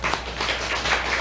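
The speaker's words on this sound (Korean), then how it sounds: "우리 박수 한번 쳐드리세요" Audience clapping at a tenth-anniversary Buddhist dharma talk, a short burst of scattered hand claps with a faint hum underneath.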